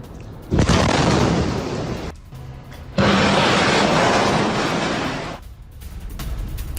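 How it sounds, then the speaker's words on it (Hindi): Rockets fired in an Iranian attack on Israel bring two long, loud roaring blasts, each a sustained rumbling rush lasting a couple of seconds, with a brief lull between them. "बैक टू बैक सैकड़ों रॉकेट्स एक साथ दागे गए।"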